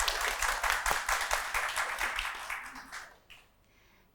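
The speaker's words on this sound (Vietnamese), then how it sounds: "Vỗ tay cái đi mọi người." An audience claps along before a Vietnamese folk song, with a run of fairly even, rhythmic claps close by that gradually thin out and fade to near quiet by the end.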